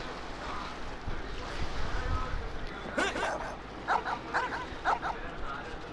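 Dog barks in the video game Genshin Impact, a few short yips repeated in a quick rhythm near the end, over a steady background wash with a voice faintly present.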